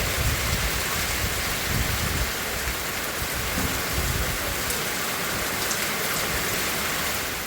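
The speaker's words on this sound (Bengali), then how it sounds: "এদিকে পড়ছে বাইরে ঝমঝম করে বৃষ্টি" Heavy rain pours steadily outside, a dense continuous hiss with occasional low rumbles, loud and unbroken throughout with no voices.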